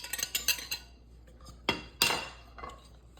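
A whisk clinks against a bowl while mixing cornmeal, flour and other dry ingredients, with a quick run of light metallic taps followed by a few sharper scrapes and knocks, close and fairly quiet.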